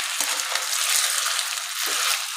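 Boiled potatoes sautéing in ghee in a pan over low heat, a loud, steady close-up sizzle and crackle with occasional scraping stirs.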